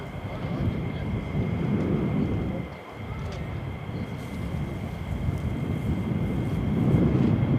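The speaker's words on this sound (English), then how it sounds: "Sounds like F-15's down this end." Distant roar of F-15 fighter jets at RAF Lakenheath, a steady broad rumble that dips briefly and then swells again, continuous and fairly loud across the outdoor scene with wind noise.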